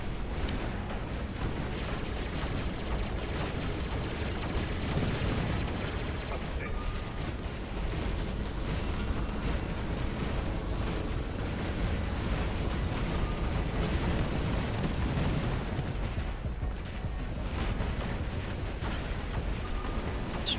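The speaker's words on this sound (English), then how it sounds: "I hit that area with the orbital strike." Orbital strike explosions in the mech combat game War Robots, a steady, loud barrage of booming blasts and mechanical clatter, continuous and dense with voices faintly mixed in.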